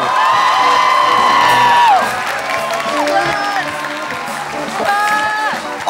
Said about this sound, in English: please give a big round of applause for the production team